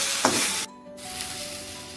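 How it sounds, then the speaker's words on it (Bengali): Okra (bhindi) frying in a pan gives a steady, close sizzle that drops out briefly in the middle and then returns. "একটুখানি ভিন্ডি ভাজি করবো"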